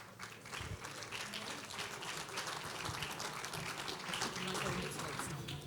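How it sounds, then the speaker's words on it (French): An awards-night audience at a press innovation trophies ceremony applauds as a presenter is called up, a steady, fairly faint and distant wash of clapping that holds for several seconds without pause. "On peut aussi l'applaudir."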